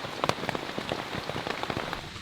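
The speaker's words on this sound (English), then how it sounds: "Finally, the rain was letting up a bit, but it was still thundering." Heavy rain in a Florida rainforest patters on a nearby surface, with dense irregular drops and distinct close taps over a steady wash of rainfall.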